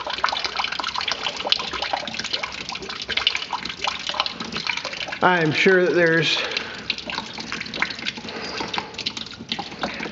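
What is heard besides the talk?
water draining out of tractor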